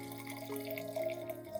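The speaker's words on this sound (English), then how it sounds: "Strain to get the clear liquid." Liquid from a soaked potato and banana peel fertilizer mixture being strained, a steady close trickle of pouring water over a tonal background hum.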